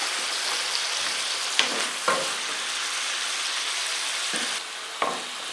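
Squid sizzling in a hot pan for a quick pasta sauce, a steady close frying hiss broken by a few sharp utensil clicks and stirs, with no talking.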